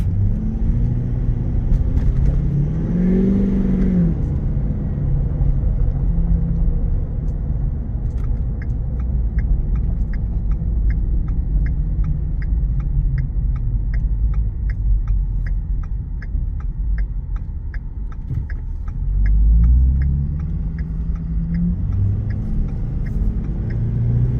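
A 2016 Ford F-250 Super Duty XLT pickup rumbles along from inside the cab with a steady low engine drone that swells briefly under light throttle, and a faint rhythmic ticking runs through the middle stretch.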